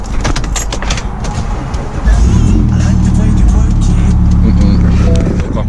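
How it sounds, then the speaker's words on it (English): A car engine starts up, and a low rumble swells into a steady idle that runs loud and close under an ongoing interior drone. "So first we're gonna start the car up now."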